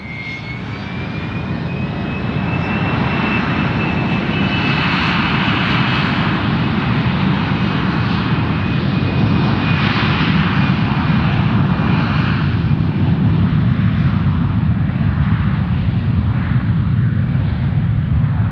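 A Singapore Airlines or Alliance Airlines plane takes off from runway 03 at Perth Airport, its engine roar swelling within the first few seconds and then holding loud and steady, with a thin whine riding over the broad rumble.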